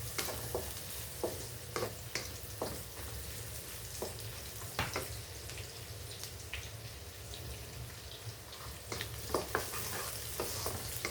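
Garlic and green chilies sautéing in a pan for a South Indian radish curry, giving a steady sizzle with scattered scraping stir clicks and small crackles throughout, close and fairly quiet with no talk.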